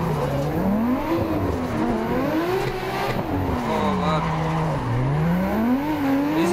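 A car drifts in the racing game Assetto Corsa, its engine revving and wavering in pitch with sustained tire squeal as it slides through corners, loud and continuous throughout.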